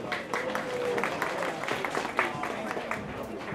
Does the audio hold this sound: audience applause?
yes